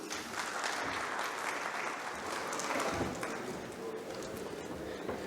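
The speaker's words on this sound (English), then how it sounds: "Let's give a big round of applause for Dr. Aflak Rasheed." Audience applause fills the hall after a guest doctor is introduced at a medical lecture on rheumatology, a steady, dense clapping that holds throughout without any talk.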